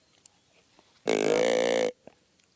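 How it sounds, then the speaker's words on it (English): A single loud, rough burp lasting just under a second stands alone against a quiet background, with a few faint clicks before and after. "Burp."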